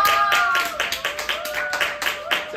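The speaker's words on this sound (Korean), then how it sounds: "제1회 청소학원 착한 어린이 대회를 여러분들의 힘찬 박수와 함께 시작하도록 하겠습니다" Audience applause opening the first good-children contest at an academy class: a steady run of crowd clapping for a couple of seconds, with voices mixed in.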